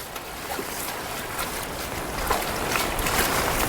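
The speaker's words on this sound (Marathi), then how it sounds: "हे बघा किती जबरदस्त पाणी येऊ राहिलंय" Floodwater from the Girna dam surges through a stream channel in a steady, broad rushing roar that swells slightly toward the end, loud and continuous with no talk.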